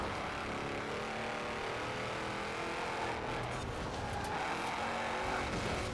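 A race car engine in Forza Horizon 4 drones at high speed along a straight at around 150 miles an hour, a steady loud roar with a slight shift partway through.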